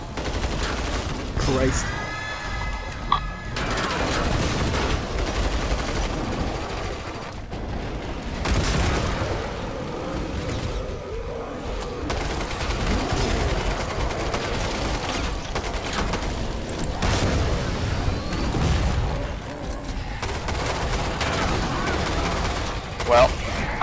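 Gunfire in the co-op zombie shooter Killing Floor 2: continuous loud bursts of shots and booms over nearly twenty-four seconds, with players talking and shouting over the shooting.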